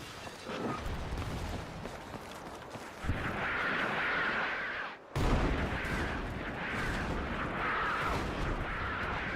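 Heavy booming explosions from artillery or an airstrike in Battlefield 6 REDSEC, deep rumbling blasts that land one after another with a brief drop in sound between them.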